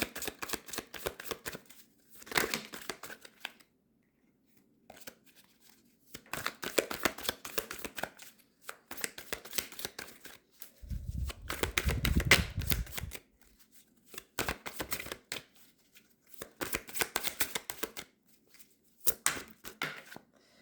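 Tarot cards shuffled for a general reading, heard as repeated bursts of soft riffling and flicking in several separate rounds, with one lower, fuller rustle in the middle and quiet pauses between.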